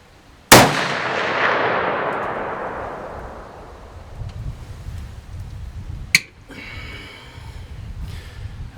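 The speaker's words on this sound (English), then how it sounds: "We're going to shoot one more shot out each one of these" A CVA Scout V2 muzzleloader rifle converted to smokeless powder fires a single loud, close shot with a long decaying echo, followed by a sharp metallic click and faint handling noises.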